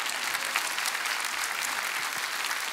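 Steady applause from a church congregation at an Easter service, a dense and even wash of clapping with no break that is heard alone, with no talking over it.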